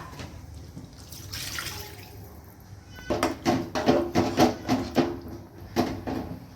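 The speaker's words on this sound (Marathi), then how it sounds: "आपल्याला ज्या प्रमाणात रसा हवा आहे त्या प्रमाणात पाणी टाकूया" Water poured into halwa fish curry in a pan: a soft trickle at first, then a run of sizzling, bubbling pulses as the water meets the hot pan, fairly quiet and close.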